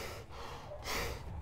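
Breathing through a protective respirator mask, with close, muffled rushing inhalations and exhalations and a louder, sharper intake of air near the end.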